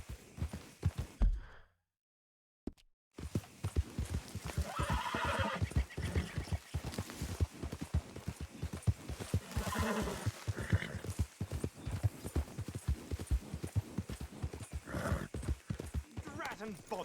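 Hooves clip-clop steadily on a horse in Red Dead Redemption 2, with whinnies and game dialogue and ambience layered throughout after a brief silent gap near the start.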